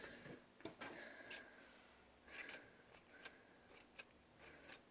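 A series of sharp, quiet scissor snips, irregular and close, in a near-silent room.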